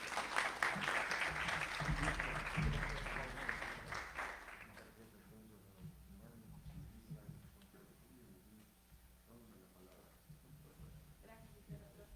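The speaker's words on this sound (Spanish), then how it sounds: "Le damos un aplauso, por favor." Audience applause fills the room at a morning World Refugee Day event, a dense burst of clapping for about four seconds that then fades out as a voice starts speaking over quieter background noise.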